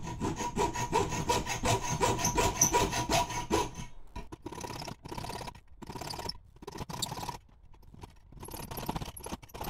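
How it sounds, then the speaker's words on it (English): Metal stock for a PC faceplate bracket is sawn by hand in a fast, even run of rasping strokes, then cut in slower, separated strokes with short pauses between them. "Now it's time to cut it out and bend it in the final shape of the bracket."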